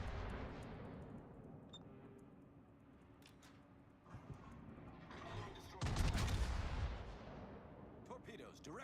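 Warship gunfire in a naval combat video game, a series of booming shots and rumbling blasts, heaviest toward the end, under faint in-game voice callouts.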